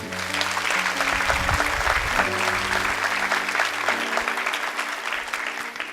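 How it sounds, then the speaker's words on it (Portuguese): Congregation applauding during a church service, many hands clapping steadily for several seconds with low sustained organ or keyboard tones underneath. "Dê um aplauso bem forte."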